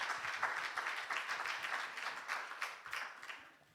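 Audience clapping for participants at a talk, a short stretch of brisk, even applause with many overlapping hand claps at moderate distance that fades out toward the end.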